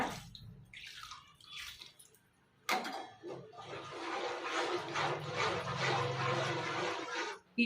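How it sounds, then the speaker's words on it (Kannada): Water is poured into a pot of simmering tamarind fenugreek gravy: a few faint bubbling drips come first, then a sudden splash and a steady, close rush of pouring and churning liquid for several seconds. "ನಾ ಇನ್ನೊಂದು ಸ್ವಲ್ಪ ನೀರು ಹಾಕ್ತಿದ್ದೀನಿ ಯಾಕಂದರೆ ಇದು ಕುದಿಯುತ್ತಲ್ವ ಅದಕ್ಕೋಸ್ಕರ"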